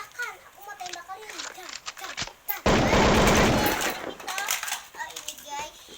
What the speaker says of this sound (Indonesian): Aku mau main tembakan. Aku mau tembak kalian.